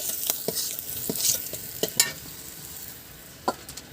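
Half-fried prawns are lifted from hot oil in a village-style kitchen: a soft sizzle underneath scattered sharp scrapes and clinks of a utensil against the pan, fairly close and moderately quiet.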